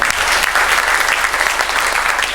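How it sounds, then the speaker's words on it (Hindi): Studio audience on the Kaun Banega Crorepati game show bursts into loud, sustained applause, a dense wash of clapping that fills the whole stretch without any talk over it. "इनके लिए एक बार और जोरदार तालियां बजाएं।"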